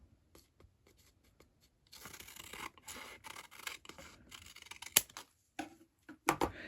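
Scissors snip off a tab from a paper planner, a few quiet crisp cuts and scraping paper sounds at close range, with rustling between the snips.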